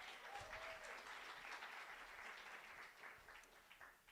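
An audience applauds through a virtual youth hangout session, a steady wash of many hands clapping that stays loud and even for a few seconds before thinning slightly at the end.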